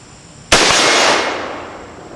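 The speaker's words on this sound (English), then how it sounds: "we're going to fire some rounds at that without using the red dot" A single sharp rifle shot from a Henry H015-223 fired at a target outdoors, a loud crack followed by a long, fading echo.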